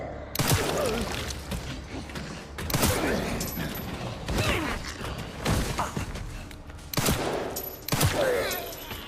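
Video game gunfire rattles in repeated bursts, dense and loud, with brief gaps between volleys.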